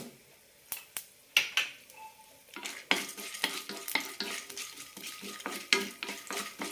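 Oil sizzles softly in a pan as mustard seeds, chana dal and urad dal fry while a spoon scrapes and stirs, with sharp metallic clinks and crackles scattered throughout.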